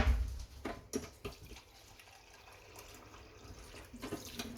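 Water runs from a tap at a kitchen bench, a soft continuous trickle with light splashes and clinks of dishes, quiet and fairly close.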